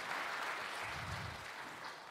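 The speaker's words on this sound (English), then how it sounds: "another round of applause for our department heads" An audience applauding department heads at a Davao City state of the city address, a dense wash of many hands clapping steadily for about two seconds, heard from a moderate distance.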